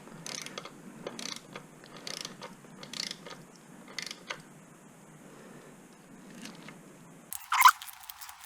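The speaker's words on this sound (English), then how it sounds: "okay, so back to our little torque wrench." Torque wrench ratcheting on the throttle body bolts of a Kawasaki H2 SC supercharged motorcycle, a series of short metallic clicking bursts roughly once a second, fairly close, ending with a sharper clack.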